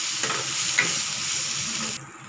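Coconut mixture sautéing in a pan, a steady bright sizzle with a few scraping stirs, and the hiss drops off sharply near the end.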